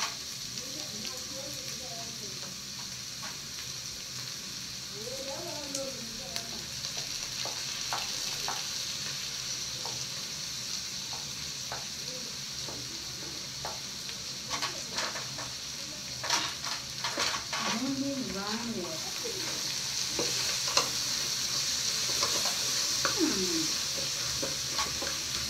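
Ginger and carrots frying in a pan, a steady broadband sizzle running throughout with occasional stirring scrapes, fairly close, while a voice talks intermittently over it.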